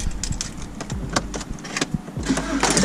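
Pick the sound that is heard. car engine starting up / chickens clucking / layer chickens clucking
car engine starting up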